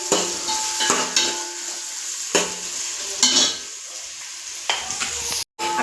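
Onions fry in a pan with a steady sizzle, broken by regular scraping clatters of a spoon stirring them against the metal.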